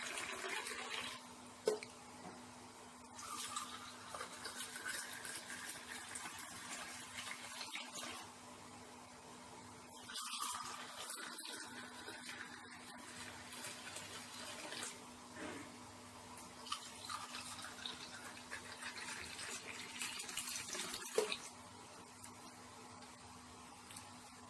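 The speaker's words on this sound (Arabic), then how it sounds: "هبتدي كده بالراحه كده ومن فوق اصب كده اهو" Yogurt liquid poured slowly from above into a cup, a soft continuous trickling and splashing stream running steadily at close range with small clinks, no talking.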